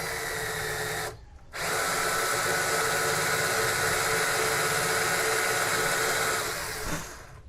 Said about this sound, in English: And then we'll go back into the drill press.